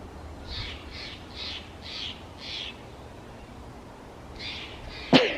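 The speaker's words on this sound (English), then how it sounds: "Squawking birds and chirping and singing birds." A crow in a park gives a run of five harsh, evenly spaced caws, then pauses and adds two more, heard from a moderate distance over faint background noise, followed by a sharp knock close to the microphone.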